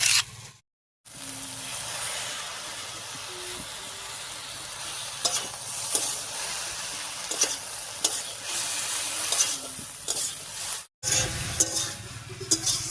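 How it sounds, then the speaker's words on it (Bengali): Fried fish with garlic and chilli paste is stirred in a hot pan over taro stolons, with scraping strokes repeating over a steady sizzle of frying oil, close and fairly loud. "রসুন লঙ্কা আর মাছ ভাজাটা দিয়ে একটু নাড়িয়ে নিলাম"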